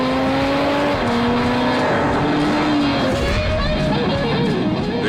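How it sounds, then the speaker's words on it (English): Jaguar F-Type with a supercharged 3-litre V6 and its sports exhaust engaged, roaring loud and close as the engine revs rise and fall, with a steady heavy exhaust note throughout. "you engage the sports exhaust system, which makes it even louder."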